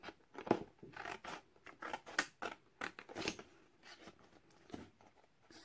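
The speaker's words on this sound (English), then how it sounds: "I'm gonna grab my little sentiment here that I wanna use, and I'm just gonna fuzzy cut it out." Scissors fuzzy-cutting a small paper sentiment for a mini album cover, quiet irregular snips and paper rustles close by, no talking.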